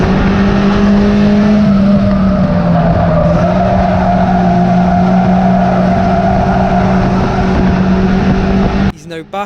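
Stock cars race around Cowdenbeath Racewall on a dry night, engines roaring close and loud in a steady sustained drone with shifting pitch, ending in a brief burst of clatter.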